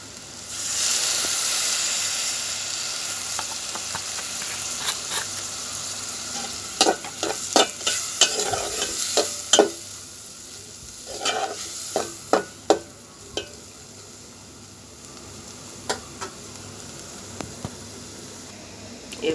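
Pasta frying in a pan just after soy sauce goes in, a loud hissing sizzle at first that settles into softer frying broken by frequent sharp clacks and scrapes of stirring.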